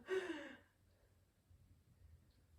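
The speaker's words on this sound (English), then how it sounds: "Breathing here, trying to slow down that inhale and exhale." One deep, breathy exhale during a post-run yoga stretch, close and soft, like a sigh, then quiet breathing fading into near silence.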